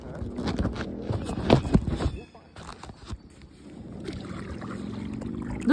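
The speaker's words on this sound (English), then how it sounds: "This is a nice leisurely paddle." Kayak paddle strokes splash and drip on calm water in a leisurely rhythm, close by, with a quieter stretch mid-way and steady water sounds building again toward the end.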